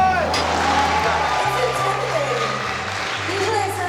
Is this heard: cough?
no